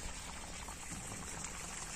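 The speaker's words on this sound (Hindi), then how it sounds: "देखिए पानी निकल रहा है।" In a kinnow orchard, water gushes from a drip irrigation pipe cut by a rotavator, making a steady, close, hissing spray with no pause.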